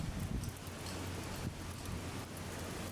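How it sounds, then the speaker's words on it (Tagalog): Steady, dense rain hisses loudly and continuously, with no voices. "Malakas pa rin ulan ngayon"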